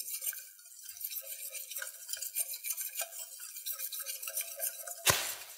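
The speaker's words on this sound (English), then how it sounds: "I'm going to stir it until I get a nice thick consistency." Six tablespoons of flour are stirred into melted butter in a pan for a lasagna sauce base. A spoon scrapes and swishes softly and steadily, with faint clinks, and one louder clink of utensil on pan comes near the end.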